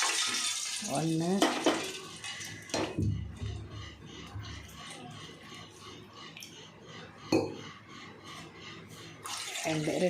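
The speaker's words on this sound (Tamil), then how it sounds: "அந்த கப்புக்கு 2 கப் தண்ணி ஊற்றுங்க" Water splashes and pours into a metal pan amid clinks of utensils and pot sounds, with brief sizzling bursts between pours, while making rava kesari.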